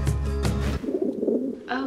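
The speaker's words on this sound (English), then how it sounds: "Oh, the bird again." A pigeon gives a few soft, low coos in quick succession, close and fairly clear, followed by a short bright chirp.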